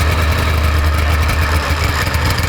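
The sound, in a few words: 440cc two-stroke go kart engine running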